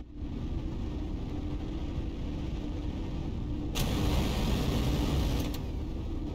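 A spaceship's turbo boost in the space game Everspace 2 comes as a steady low engine roar that suddenly swells and brightens into a louder rushing surge midway, holding strong before easing slightly, with no talking.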